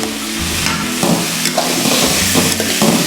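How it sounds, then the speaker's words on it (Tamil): Boiled elephant foot yam pieces tip into a frying pan with tomato, producing a steady loud sizzle with stirring scrapes and clatter across the clip, close by and without speech. "இது கூடவே நம்ம வேக வச்சு எடுத்த இந்த கருணைக்கிழங்கை போட்டுக்கலாம்."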